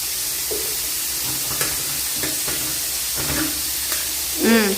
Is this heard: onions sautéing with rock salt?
yes